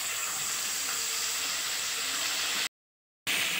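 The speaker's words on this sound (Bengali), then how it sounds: "কেটে রাখা কয়েকটা রসুন। ফ্রাই হয়ে যাক" Sliced garlic sizzling in hot oil in a pan, a steady close hiss with faint stirring, cut off by a short silent gap before the frying resumes.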